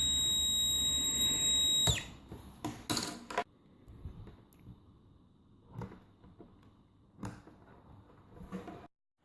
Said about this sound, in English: you can silence an annoying piezo buzzer by placing a coin on it